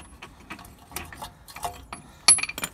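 Small ticking, clicking metallic taps as a Nissan Qashqai front brake caliper piston is wound back with a tool, the scattered light clicks growing sharper and louder toward the end.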